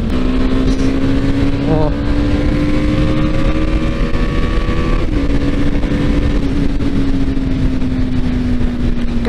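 Yamaha Fazer 250 motorcycle engine downshifting and accelerating on the road, a steady loud drone with rising pitch under constant wind rush, with a brief voice exclamation.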